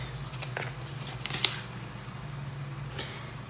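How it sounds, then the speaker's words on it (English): Pages of a planner sticker book from a craft store haul flipped by hand, soft papery riffles and rustles close up, with a sharper flick near the middle and a quieter turn toward the end. "So I'll just flip through a couple of these pages."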